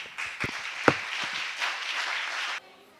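A congregation at a church prayer and worship service gives a short burst of applause to welcome the preacher, with scattered claps that merge into brief, moderately loud clapping before it stops abruptly.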